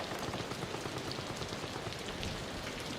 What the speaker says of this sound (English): I love the rain sound effect